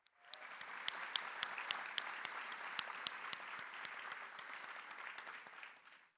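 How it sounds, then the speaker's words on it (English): Guests at a bar association awards ceremony in Chicago give honorees a steady round of applause, many hands clapping at an even level with a few sharper claps standing out, then fading at the end. "Let's give them another round of applause."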